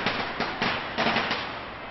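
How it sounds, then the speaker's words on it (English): Fireworks going off over a crowd at Fountain Square in Cincinnati, a dense run of loud crackling bursts with a few stronger pops, continuous and fairly close, with no talk. "Our cameras were there to pick up the sound of fireworks"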